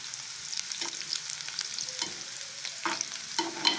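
Onions sizzle in hot oil in a pan, a soft crackling hiss broken by several scraping stirs of a spoon, fairly close and fairly quiet, with no voices.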